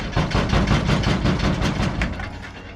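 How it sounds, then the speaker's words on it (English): A loud, steady mechanical clattering and rumbling with a rapid rhythmic pulse, a mining shake table shaking back and forth continuously, no voices. "this table is just going to shake back and forth like this all day"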